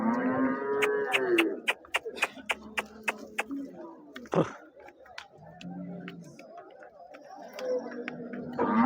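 Several cows moo loudly and repeatedly up close at a Saturday cattle market, alongside a rapid run of sharp clicks and murmuring voices in the background.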